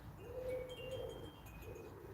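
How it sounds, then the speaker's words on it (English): Garden birds call outdoors, soft cooing notes in a couple of drawn-out phrases, faint and distant against low background hiss. "it's the birds outside in the garden."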